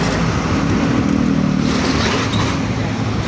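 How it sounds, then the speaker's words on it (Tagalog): Motorcycles traveling on a road in Cebu, a dense, steady engine drone and road noise close by, with no clear speech. "Yan po yung mga motor na bumibiyahe dito."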